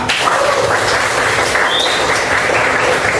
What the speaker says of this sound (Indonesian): semuanya tepuk tangan untuk kita semua